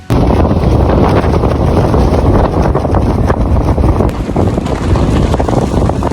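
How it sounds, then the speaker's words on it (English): Strong wind gusting on an open Camino walking route, a loud, constant roar buffeting the microphone close up for the whole stretch. "So the wind has picked up a notch"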